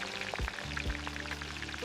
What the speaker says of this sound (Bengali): এবার ম্যারিনেট করা মাংসগুলো হালকা আঁচে ভেজে নেব।